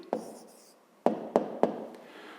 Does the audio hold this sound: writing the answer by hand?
yes